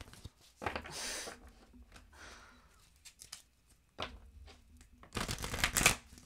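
Tarot cards being shuffled in several bursts, riffling and slapping close by, with short pauses between and a louder flurry near the end.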